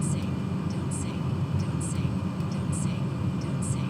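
Steady, droning airplane engine in a flight simulator game, a continuous low hum with a faint rhythmic pulsing on top, holding evenly throughout with no talking.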